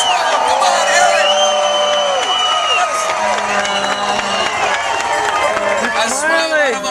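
A large crowd at a Memorial Cup victory ceremony cheers and whoops loudly and steadily for the team captain, with many overlapping voices filling the space throughout.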